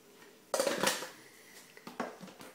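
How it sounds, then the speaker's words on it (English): Butter and caster sugar being creamed together in a mixing bowl, heard as scraping and clinking of a utensil against the bowl in short irregular bursts, close and fairly loud, with no talk. "I'm going to cream the butter and the sugar together."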